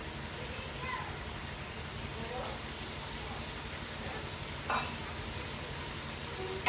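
Ground turmeric, chili, cumin and coriander powders sizzle in hot oil in a pan for beef tripe curry, a steady frying hiss broken by occasional scraping stirs and a brief clatter near the end.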